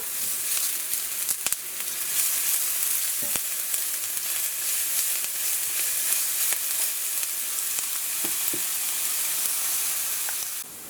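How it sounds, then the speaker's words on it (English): Onions sauté in hot oil for a shrimp chipotle pasta, giving a steady, close, crackling sizzle that runs unbroken, with a few faint clinks and stirring knocks scattered through it and no voices. "So to the hot oil I'm going to go in with some onions. You just want to saute that until it's tender."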